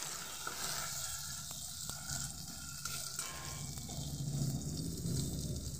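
Chopped tomato frying in a pan for chicken liver curry, a soft continuous sizzle with occasional scraping stirs and light clinks, close and fairly quiet with no talk.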